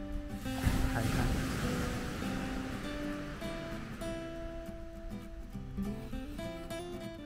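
Waves break on a beach on Malaysia's east coast along the South China Sea, a loud washing surge early on easing into continuous surf with wind buffeting the microphone and a faint tonal hum underneath.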